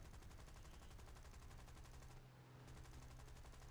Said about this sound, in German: Okay, erstmal nur mit den MGs.